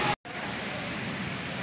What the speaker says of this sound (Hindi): तो ये बारिश हो रही है